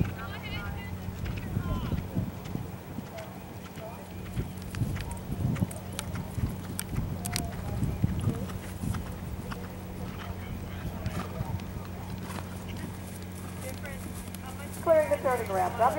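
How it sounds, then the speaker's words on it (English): An 8-year-old thoroughbred galloping on a spring training course gives a rhythmic drumming of hooves, with a commentator talking over the hoofbeats throughout. "Andre Davidson and the 8-year-old thoroughbred Fog Harbor."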